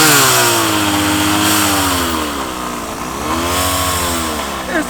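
A car fitted with a $300 Amazon aftermarket supercharger revs hard on a dyno, a loud, close, raw engine roar rising and falling in pitch with a whining, buzzing edge and no break.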